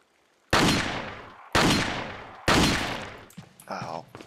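Three loud, close gunshots from the Resident Evil 4 video game, spaced about a second apart, each with a sharp crack and decaying tail, followed by brief clattering game sounds.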